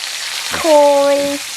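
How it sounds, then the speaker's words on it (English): Bacon frying in a pan makes a steady, close sizzle throughout, with a brief voice-like tonal whine rising over it midway. "it's time to take the bacon and flip it"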